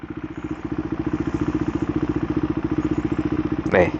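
A KTM Duke 390 motorcycle engine runs in a steady rapid pulsing throb while gears are shifted, loud and close, with a brief sharper burst near the end.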